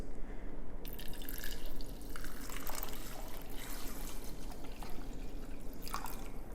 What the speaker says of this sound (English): grab our vinegar, and we're going to pour it in just so that we have enough so it covers all of our cubes